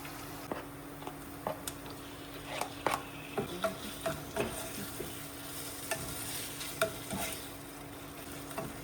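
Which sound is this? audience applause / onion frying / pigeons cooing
onion frying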